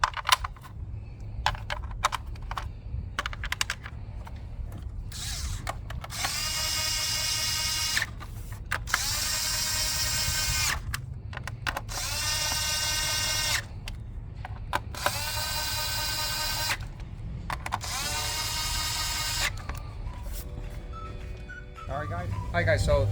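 A power tool on a 2015 Honda Accord Sport 2.4 liter whirs in several short high-pitched bursts driving in five 10mm bolts on the engine cover, close up with small clicks and handling noises between.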